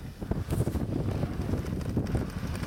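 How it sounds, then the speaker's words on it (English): Wind buffets a microphone in rough, uneven gusts on a snowy mountain crest, a low roaring rumble that swells and fades over a couple of seconds. "This is actually a bit of a windy day today"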